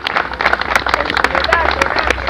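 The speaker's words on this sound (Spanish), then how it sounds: "Fuerte el aplauso para los campeones de Canal," A crowd applauds the national aparte campero champions from Canal, sharp, uneven claps rising and falling over a couple of seconds, with voices talking over them.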